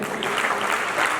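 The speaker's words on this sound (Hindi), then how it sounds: "तो उनके नाम से आप लोग जरा जोरदार ताली बजाएं।" An audience applauds at a stage event, a dense steady clatter of many hands clapping, loud and sustained throughout with no speech over it.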